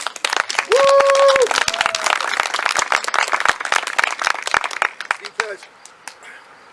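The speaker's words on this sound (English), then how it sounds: "Let's give you all a hand." Audience at a candidates' meeting breaks into loud, dense applause for newly elected legislators, with sharp close claps, a whoop and cheers, steady for several seconds before tapering off.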